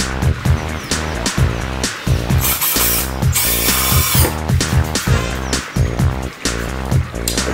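A power drill drives 40 mm 10-gauge screws into 15 mm plywood while building a drum riser, giving repeated short whirring bursts in a steady rhythm, close and fairly loud, with brief pauses between screws.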